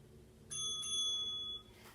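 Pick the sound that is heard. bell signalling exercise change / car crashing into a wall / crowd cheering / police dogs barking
bell signalling exercise change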